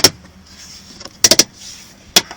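Plastic door panel clips on a Dodge Journey being pushed into their holes around the door: a click at the start, a quick burst of three sharp snaps, then one more snap, all close and alone.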